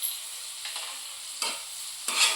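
Tomato and asafoetida frying in hot oil with onion, stirred in a pan, a steady soft sizzle broken by three scraping stirring strokes.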